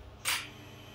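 Servo power switches on in a Motoman NX100 industrial robot: a single short hiss-like click lasting a fraction of a second stands over a faint steady electrical hum.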